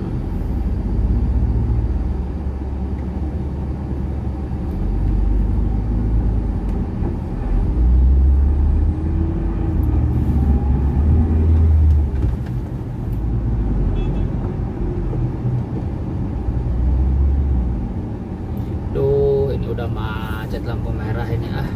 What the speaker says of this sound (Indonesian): Macet lampu merah ini ah.